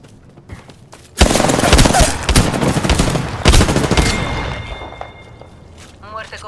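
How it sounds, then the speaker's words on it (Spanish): Gunfire in the Apex Legends video game, a sudden loud burst of rapid shots that rolls on for about three seconds with a second flurry, then fades under a quieter stretch with a brief voice near the end. "Me disparan."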